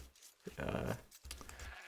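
A sheep bleats in the real-time strategy game Age of Empires: one short, faint, wavering bleat in a quiet game scene, with a softer second sound trailing after it.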